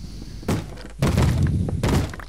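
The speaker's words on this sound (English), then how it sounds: "Zombie at the door." A zombie bangs on a wooden door in Minecraft (Tekkit), three loud, heavy thuds spaced about half a second to a second apart, close and alone.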